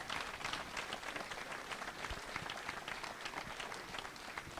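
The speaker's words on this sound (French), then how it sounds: "on applaudit bien fort Fabrice et son invité en direct de Montréal" An audience at a village television broadcast in Commenailles claps steadily for a live link from Montréal, even moderate applause with no clear pauses.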